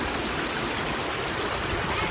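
Steady rushing of river water at Imoy Falls in Bucari, Leon, Iloilo, a continuous broadband wash with no breaks, close and fairly loud throughout.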